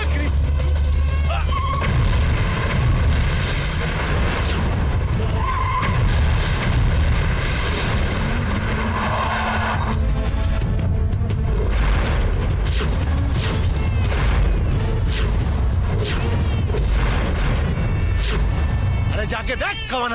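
A dense, sustained roar of booms and rumbling blasts fills the scene of a bomb explosion in a Bhojpuri action film, loud and continuous with music layered over it.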